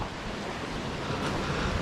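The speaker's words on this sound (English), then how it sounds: "look at this river" A river on Mount Kilimanjaro rushes steadily and loudly close by, with broadband water noise and wind buffeting the microphone throughout.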